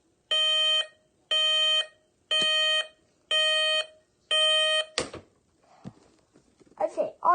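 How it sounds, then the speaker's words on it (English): Aiwa FRA305U digital alarm clock radio sounding its alarm: five evenly spaced, loud electronic beep bursts, each about half a second, then handling noise and a person starting to talk. "all of my alarm beeping"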